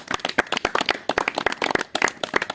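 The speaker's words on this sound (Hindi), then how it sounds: "बहन जी का स्वागत है यहाँ पर तालियों के साथ" Scattered hand claps welcome a guest at a yajna gathering at a naturopathy and yoga center, an uneven, moderately close patter of several people clapping.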